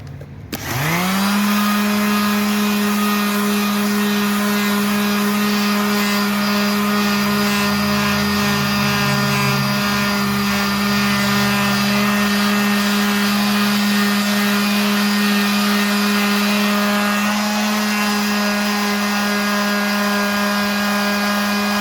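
Power tool spins up and grinds steadily on a multi-colored wheel rim, blending down deep gouges with a loud, continuous high-pitched whine that holds for the whole stretch.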